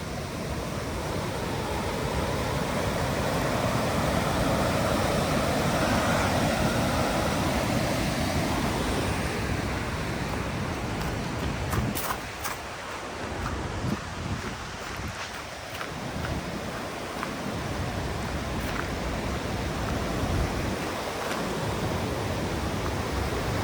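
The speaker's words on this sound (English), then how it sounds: "You guys can hear the sound of the river." A river rushes steadily through Milford Sound (Piopiotahi), New Zealand, as a dense, continuous roar of flowing water with occasional wind buffeting on the microphone, and no voices.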